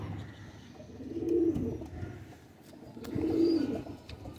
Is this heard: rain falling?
no